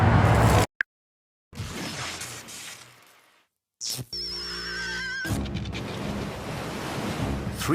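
Ocean waves wash around an oil platform in the Gulf of Mexico, a loud broadband surge broken by abrupt cuts and brief silences, then returning with a tonal whine before the roar resumes.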